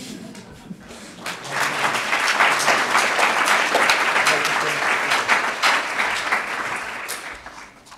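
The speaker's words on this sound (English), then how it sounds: "Can we get one more round of applause for our PhD graduates?" Sustained applause fills a hall at a university economics commencement for PhD graduates, swelling after a brief voice at the start and holding steady and loud to the end.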